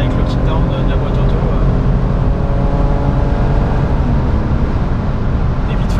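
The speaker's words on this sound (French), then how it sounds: "si je rétrograde avec le kick-down de la boîte auto" A 1998 BMW 323i E36 Touring with the M52 engine and automatic gearbox kicks down at highway speed, giving a loud, steady in-cabin engine drone with strong harmonic hum that holds throughout under road and wind noise, with a voice faintly present.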